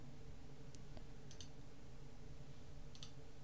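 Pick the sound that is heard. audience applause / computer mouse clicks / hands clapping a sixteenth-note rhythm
computer mouse clicks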